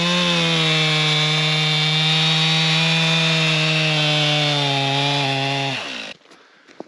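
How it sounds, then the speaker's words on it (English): A chainsaw cutting wood drones loudly and evenly at a steady pitch, then winds down and cuts off, leaving near silence. "How about a round of applause for that poor old chainsaw?"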